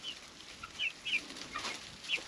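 Chickens in a coop with roosting bars and nest boxes, faint scattered clucks and soft chirps over a quiet hiss, distant and sparse.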